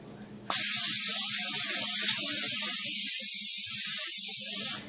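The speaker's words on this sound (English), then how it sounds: "spray my pan down" A steady hiss of aerosol cooking spray onto a pan starts abruptly after a brief quiet moment and continues close and loud for about four seconds before stopping.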